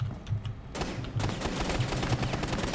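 Rapid gunfire in the video game Rainbow Six Siege, with dense automatic bursts of sharp shots that grow fuller and louder partway through and keep going without pause.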